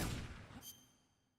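Single gunshot in the stealth video game Metal Gear Solid 3, a sharp blast followed by a fading echoing tail and a faint ringing tone, fairly quiet overall.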